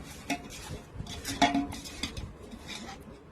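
A utensil clinks and scrapes against a dish while spiced food is mixed with oil. Irregular stirring clatters come in short bursts, close and moderately loud, with no talking.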